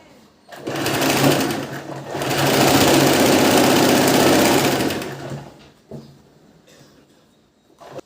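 A sewing machine runs a double stitch on a blouse in two long, loud bursts of rapid mechanical whirring, the second lasting about three seconds, followed by quieter handling noises.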